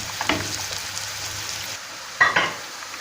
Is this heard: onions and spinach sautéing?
yes